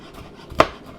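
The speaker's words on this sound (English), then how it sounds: "So I'm going to chop the garlic." A single crisp knife chop through garlic on a cutting board, one sharp close-up knock standing out against near-silence.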